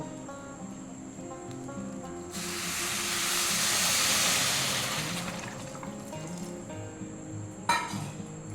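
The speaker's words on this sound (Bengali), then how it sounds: "এবার আমি জল দিয়ে দেবো" Water poured into a hot pan of shyama rice sets off a loud hiss of steam that swells for a few seconds and fades, followed by a brief clatter.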